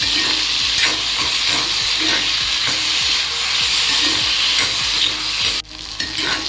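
Tomatoes frying and sizzling in a pan for masala Maggi noodles, stirred with steady scraping strokes; a loud continuous sizzle with a brief dip near the end.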